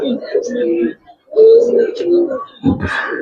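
Silver Giribaz pigeons coo in low, throaty bursts close by, mixed with someone talking over them.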